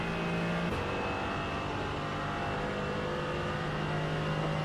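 Race cars in the eNASCAR racing video game, GT4 and Porsche cars, droning steadily with engine whine and a pitch shift early on, a loud continuous motor roar with no voices.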